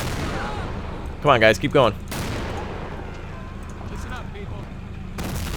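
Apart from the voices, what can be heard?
mortar and gunfire in Men of War: Assault Squad video game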